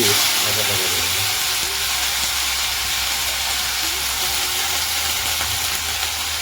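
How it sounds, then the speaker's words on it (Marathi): Mustard seeds crackle and pop in very hot oil as vegetables fry for a Bhogi winter mixed-vegetable dish, a dense steady sizzle with hissing that stays loud and close throughout, no talking. "तेल पण जरा ना जरा जास्त तापलं वाटतंय लय ताडताड करतंय"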